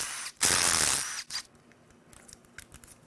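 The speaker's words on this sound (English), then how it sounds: "So it's got a little ratcheting thing that keeps it from retracting." A ratcheting oil-pressure chain tensioner from a Maserati Ghibli F160 twin-turbo V6, worked by hand during an engine teardown: one sharp, loud burst of ratcheting clatter, then a few quieter clicks and light rattles close by.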